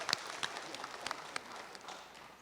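Audience applause for a special guest at a high school career panel day, a soft, scattered patter of clapping that tapers off over a couple of seconds, fairly faint and distant.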